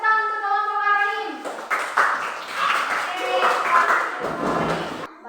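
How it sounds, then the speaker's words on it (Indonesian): A school class claps for a student group during an Islamic religious education lesson, with scattered hand claps following a brief sung or drawn-out voice, mixed with children's chatter. "Berikan tepuk tangan untuk kelompok Ar-Rahim"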